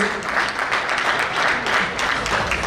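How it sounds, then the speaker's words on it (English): Applause from a banquet audience at a cricket club awards night, a steady wash of many hands clapping together at moderate volume, with faint chatter mixed in. "Round of applause, guys"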